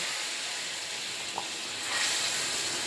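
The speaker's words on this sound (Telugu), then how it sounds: "నెయ్యితో పోపు చేసుకుంటే చాలా టే చాలా టేస్ట్ ఉంటుందండి" Spices tempering in hot ghee for sambar, a soft continuous sizzle and hiss with a small pop partway through and a slight swell near the end, no talking.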